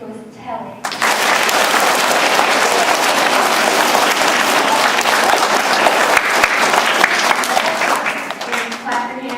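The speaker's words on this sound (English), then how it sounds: "clap your hands if you think it was telling." A large audience claps hands together in a loud, sustained burst of applause that starts abruptly and holds steady for several seconds, with scattered cheers under it before it thins out at the end.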